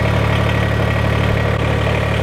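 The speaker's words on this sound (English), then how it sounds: "Shut off the tractor." A tractor engine idles close by with a loud, steady low rumble and constant hum that runs without change throughout.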